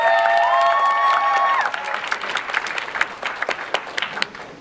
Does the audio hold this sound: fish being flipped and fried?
no